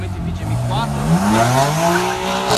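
Several race cars, a BMW event with a Subaru WRX STI mentioned nearby, roar off the start line at close range, engines rising in pitch under acceleration with some tire noise, loud and continuous.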